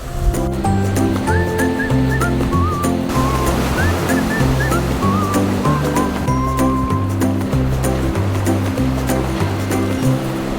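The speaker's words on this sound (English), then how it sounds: "There's like giant like claws of waves that come in and high surf, and it drags the sand out." Loud, continuous roar of high surf breaking on a sandy beach, with a low rhythmic pulsing beneath and faint higher tonal sounds drifting over it, no speech.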